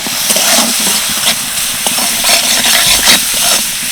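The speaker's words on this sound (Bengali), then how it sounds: "চিকেনটা হালকা নেড়ে চেড়ে নিয়েছি" Chicken pieces being stirred and fried in a pan, making a steady loud sizzle and hiss with scraping stirs throughout, close up and with no talking.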